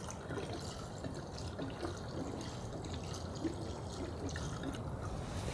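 Gasoline trickles slowly from a can with a safety-latch spout, a faint continuous liquid dribble and gurgle heard close up and steady, without any voices.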